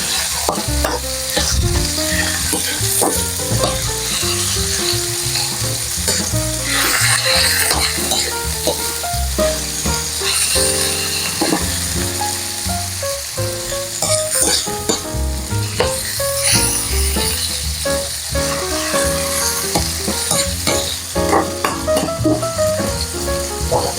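Mussels sauté with tomato in a hot pan for ginisang tahong, a loud, continuous sizzle with constant stirring clatter, close and without talk.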